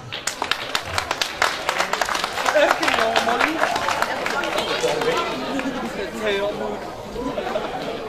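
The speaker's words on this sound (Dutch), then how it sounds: "En daarvoor wil ik nog een keer een dadelijk applaus voor die mensen." Applause from the audience at a Belgian carnival prince's entrance ceremony, clapping rising under crowd chatter and cheering, with people talking throughout.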